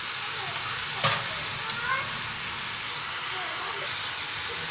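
Ginger-braised chicken stir-fries in a pan, with a steady close sizzle and hiss throughout, broken by a few sharp clinks and scrapes as the pieces are stirred.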